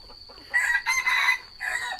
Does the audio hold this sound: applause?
no